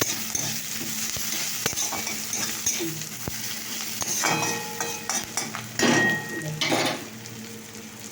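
Chopped vegetables fry in a pan at home as a steady sizzle, broken by scraping stirs and metallic clinks of a utensil against the pan, close and fairly loud with no talking.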